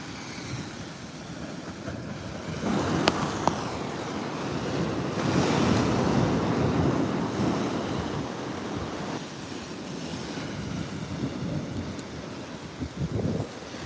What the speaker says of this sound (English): Can only hear the waves, we can't see them.